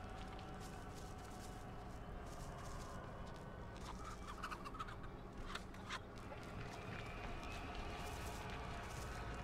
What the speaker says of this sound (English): Why was there a chicken back there, bro?